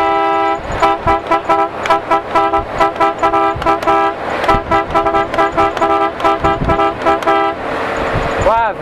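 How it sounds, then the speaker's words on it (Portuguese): A car horn toots over and over in quick, uneven bursts, loud and close, with engine noise underneath and a final warbling honk. "Ó a buzina aí, ó."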